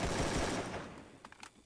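Gunfire in the mobile battle game Free Fire comes as a short, rapid burst of automatic shots that fades away within about a second, followed by a few faint clicks.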